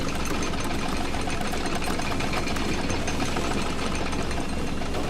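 The Bucket Destroyer machine running in the video game The Stanley Parable: a dense, continuous mechanical grinding drone with a rapid rattling vibration, steady and loud throughout, with no voices.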